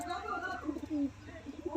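A teddy pigeon with seal markings coos softly in low, rolling bursts, faint and close, with someone talking over it throughout.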